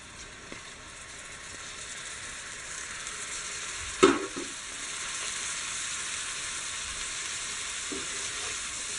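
Cauliflower cooking in sizzling masala in a pan, a soft steady frying hiss with one sharp clatter of a utensil midway and a few quieter stirring scrapes, no talk.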